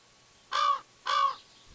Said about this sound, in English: Darn crows.